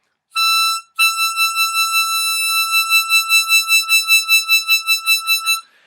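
A bright, reedy sustained blow note on hole 8 of a harmonica, briefly sounded, then held with a steady pulsing vibrato that wavers rapidly until it stops.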